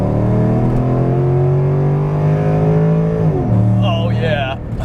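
A Mercedes E55 AMG with a five-speed automatic accelerating hard, its engine note climbing steadily before a quick shift drops the pitch; a loud, close cabin drone with a voice exclaiming near the end.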